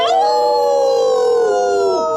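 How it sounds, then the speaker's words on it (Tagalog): A long, loud wailing howl from a creature outside, sliding down in pitch and fading near the end, rich with overtones, heard alone. "Mas lumakas pa ang ungol sa labas."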